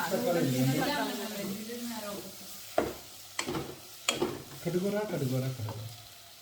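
Onion and tomato sautéing in a pan for Indian-style Maggi noodles, a soft sizzle under talking voices, broken by a few sharp clinks and scrapes of stirring.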